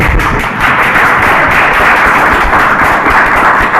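A room at a town board meeting fills with steady, continuous clapping from a small crowd, a dense even patter of hand claps lasting the whole stretch with no speech over it.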